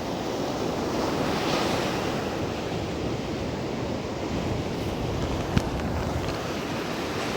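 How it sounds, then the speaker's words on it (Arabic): Rough winter sea surf crashes on the shore at Mina Hashish, a continuous loud wash of waves mixed with heavy wind noise. "الموج شكله تحفة"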